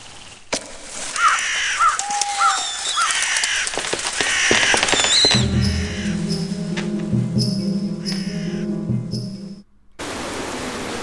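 A bird caws several times in Dracula Resurrection, a few harsh calls over a hissing ambient backdrop that shifts into a lower drone before a brief silent cut.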